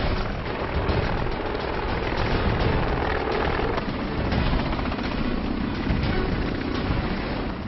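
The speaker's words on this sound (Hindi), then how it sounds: "इंडियन कोस्ट गार्ड का सिपहसालार एडवांस लाइट हेलीकॉप्टर MK3" An Indian Coast Guard Advanced Light Helicopter MK3 in flight, its rotor and turbine roar loud and continuous with a steady chopping texture and no speech.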